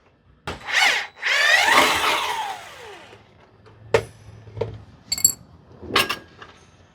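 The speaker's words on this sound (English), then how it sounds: "we're going to go ahead and remove the 1/2 inch bolt and the nut." A power tool whirs in two quick bursts while removing a half-inch bolt and nut from a through-frame slide rack arm, then comes a series of sharp metallic clinks and taps as the parts come loose.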